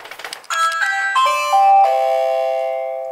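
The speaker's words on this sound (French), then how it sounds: "et le carillon sonne en plus du téléphone" A Ring Video Doorbell Pro's indoor chime rings in a home, a clear, loud descending sequence of bell tones that overlap and then fade out slowly. A few faint clicks come just before it starts.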